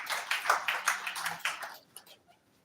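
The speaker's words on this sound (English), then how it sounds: "A round of applause." Applause from an audience at an INEC Chairman's meeting with civil society organisations in Nigeria, a dense burst of clapping that lasts under two seconds, then fades to a few scattered claps.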